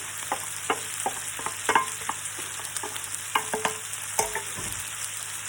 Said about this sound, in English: I'm going to add back in my onions and bacon.